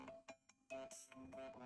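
Incoming-call phone ringtone playing alone, a short melodic chime repeating in quick pulses, fairly quiet.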